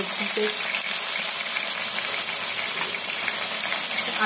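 Tomatoes added over fried onion and curry leaves in a pan for a brinjal and potato curry, a dense continuous frying hiss, close and fairly loud, with no talking.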